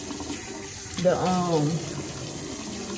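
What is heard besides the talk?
warm water running from a bathroom tap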